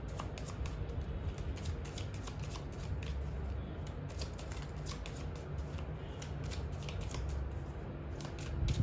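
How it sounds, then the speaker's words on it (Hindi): Tarot cards shuffled and drawn from a deck in a continuous rapid riffling flutter, close and moderately quiet for the whole stretch, with no talking over it. "ओके, टैरो से कुछ कार्ड्स निकालते हैं, फिर शुरू करते हैं रीडिंग।"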